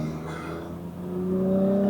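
A BMW 325i E30 cabrio's engine revs up steadily, its droning pitch climbing and growing louder over two seconds, heard close from inside the convertible.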